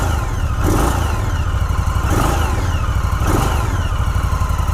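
A 2018 Indian Scout Bobber motorcycle's stock V-twin engine is revved in three rising pulses over a rumbling idle, loud and close, with a mechanical clatter running through the throttle blips.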